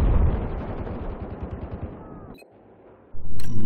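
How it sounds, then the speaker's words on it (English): Gunfire rattles through a Battlefield 4 Conquest match: dense, continuous automatic fire fades over a few seconds, then falls quiet, followed by a sharp burst at the end. "They're also shooting their fucking guns while shown on the minimap."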